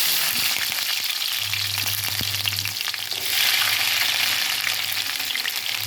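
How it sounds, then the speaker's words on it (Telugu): Onions and green chillies fry in oil in a kadai, giving a steady close sizzle with a low hum beneath and light stirring clatter, no voices. "కళాయి పెట్టి నూనె పోసుకున్నాను. ఇప్పుడు ఉల్లిపాయలు, పచ్చిమిరపకాయలు"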